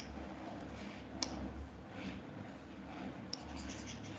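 Pen scratching across a writing surface during a physics lecture, faint continuous scribbling strokes with a couple of soft taps, quiet and close with no talking.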